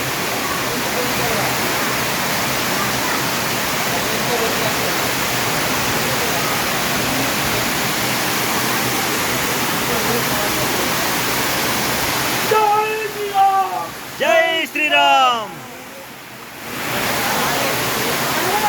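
A waterfall on Ranamandala hill near Adoni, Kurnool district, runs full after heavy morning rain, giving a steady, loud roar; a person speaks briefly near the end as the roar drops away.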